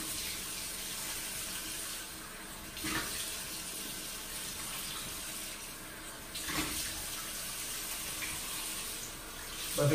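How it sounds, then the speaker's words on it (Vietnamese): Tap water runs steadily into a bathroom sink while someone washes their face, with a continuous broadband splashing and brief surges of louder gushing every few seconds as hands dip into the stream. "Vẫn dơ thì bây giờ mình sẽ rửa mặt đã."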